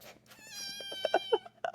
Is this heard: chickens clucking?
no